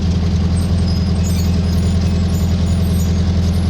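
An air-cooled VW 1600 dual-port engine idles steadily up close, a loud, even low rumble with a pulsing hum. The sound is unbroken and there is no talk.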